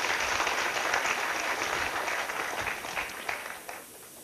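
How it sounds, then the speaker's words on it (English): Lecture audience at a chemistry Christmas lecture applauding, a steady dense clapping that holds for about three seconds and then thins and tapers toward the end. "Well, I think that's a round of applause for that."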